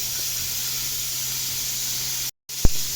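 Crushed garlic cloves sizzling in oil in a pot give off a loud, steady frying hiss close up. The hiss cuts out briefly, followed by a single sharp tap.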